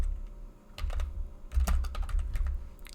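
Keystrokes on a computer keyboard as a command is entered on a PC, several quick bursts of clicks in uneven clusters over about three seconds, close and fairly loud, with no talking.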